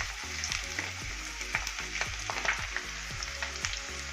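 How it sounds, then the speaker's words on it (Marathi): Onions frying in a pan with whole garlic cloves for a Saoji mutton curry, a steady close sizzle with frequent crackling pops and occasional stirring, no voices. "कांदा आपला भाजत आलेला आहे"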